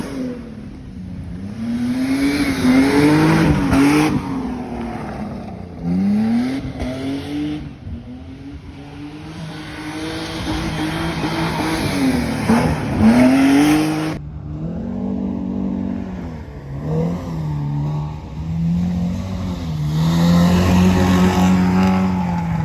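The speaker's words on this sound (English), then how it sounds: "Here comes my buddy in the Pathfinder. He's in the 2-wheel drive class." A two-wheel-drive Nissan Pathfinder fitted with F-150 front suspension races at a rallycross event, its engine revving hard and loud, climbing and dropping repeatedly through shifts, with no talking.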